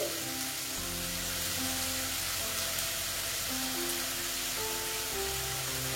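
Continuous close-up sizzling of onion and garlic frying in a pan on low heat for a pabda fish curry, an even crackling hiss with a faint background hum, no talking.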